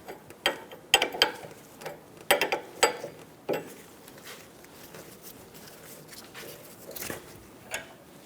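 Wrench work on the outer tie rod of a 2012–2020 Chevrolet Sonic's steering rack, a series of sharp metallic clicks and ratcheting clanks in irregular bursts, close by, quieter toward the end.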